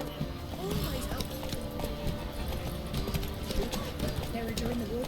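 Horse hooves clip-clopping at a steady running pace in The Witcher 3, with occasional snorts and a voice talking over the rhythmic hoofbeats.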